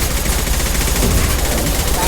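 Rapid automatic gunfire in the video game Mass Effect 2 rattles continuously and loudly for a couple of seconds, a dense burst of overlapping shots with no pauses.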